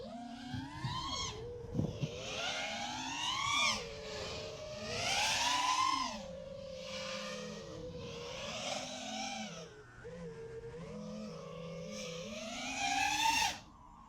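The motors of a Diatone Roma F5 freestyle FPV quad whine and spool up and down in rising and falling sweeps as it flies, loud and close throughout.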